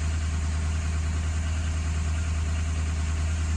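A 2005 Ford Excursion engine runs steadily at idle after a long crank, a close, even low rumble with constant vibration and no voices.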